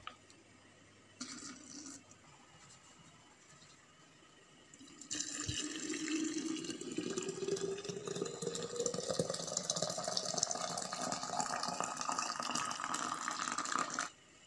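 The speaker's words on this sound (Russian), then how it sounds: "И сразу же заливаем крутым кипятком." Boiling water pours into a glass jar of cherries and sugar, a steady rushing gush that starts after a quiet stretch and runs for about nine seconds before cutting off, close and fairly loud.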